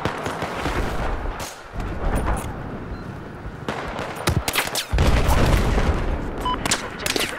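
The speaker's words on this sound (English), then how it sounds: "Where the fuck am I getting shot from?" Video game gunfire cracks in irregular bursts and single shots around a player being hit, loud and close with booming low-end hits and brief lulls between volleys.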